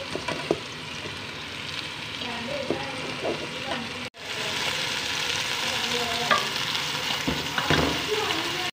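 Okra tipped into a pan of simmering squash in coconut milk with soy sauce, destined for mung beans too, sets off a steady close sizzle and bubbling with stirring clatter; a brief cut midway, then the frying continues loud.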